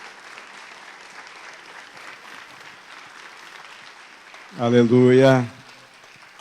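A church congregation at a communion service claps together in sustained, moderate applause, then a loud voice shouts out near the end.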